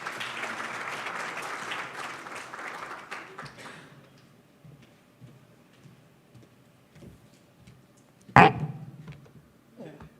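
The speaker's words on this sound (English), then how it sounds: "please, a warm round of applause for Kerry" Conference audience applause for a speaker, a short burst of clapping that fades after a few seconds, followed by quiet room noise and a sharp knock or clatter near the end.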